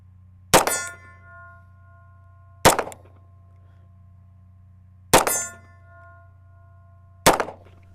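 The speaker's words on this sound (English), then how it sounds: "Let's see if we can ring some steel at 25 yards." Four sharp metallic clangs from pistol rounds striking a steel target at 25 yards, fired from a Tisas 1911 DS, each ring decaying quickly, spaced about two to three seconds apart over a steady low hum.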